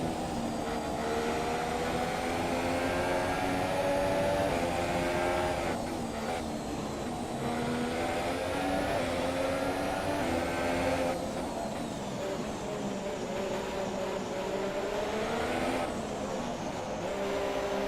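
Sauber Formula 1 car in the racing video game F1 2017, a sustained high engine whine with shifting harmonics that dips and rises steadily as the car slows into the pit lane during a race in the USA.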